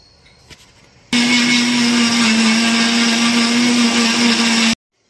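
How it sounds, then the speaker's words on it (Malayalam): A mixer grinder blends almonds into powder with a loud, steady whirring roar that starts abruptly, runs for about three and a half seconds, then cuts off. "ബദം ഇട്ട് കൊടുത്തിട്ട് നമുക്കിതൊന്ന് അടിച്ചെടുക്കാം മിക്സിയിൽ"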